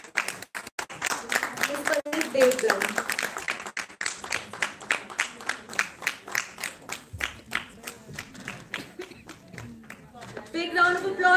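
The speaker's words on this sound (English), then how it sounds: "A big round of applause." Audience applause at an award ceremony honouring an Exceptional Woman of Excellence, a dense room of hands clapping in a quick even rhythm, with a voice speaking over the start and clapping swelling again near the end.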